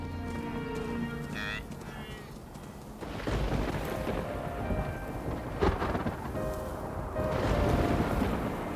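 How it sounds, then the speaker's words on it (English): Thunderstorm during the African wet season, with heavy rain hissing steadily and deep rolling thunder rumbling through, swelling louder toward the end, with nobody talking. "Thunderstorms are an almost daily occurrence through the wet season"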